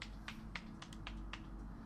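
Applause sound effect in the video game Steins Gate 0: a few sharp, evenly spaced claps from a single person, close and crisp over a low background hum, with no talking.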